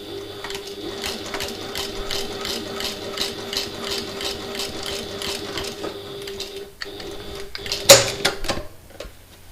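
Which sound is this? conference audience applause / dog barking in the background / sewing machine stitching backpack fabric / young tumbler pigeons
sewing machine stitching backpack fabric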